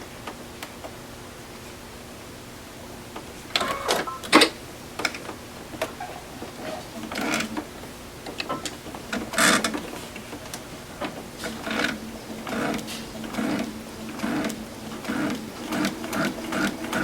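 A sewing machine stitches quilt fabric for a stretched geese block in short, moderately faint runs of ticking mechanical chatter, broken by pauses and soft fabric rustles.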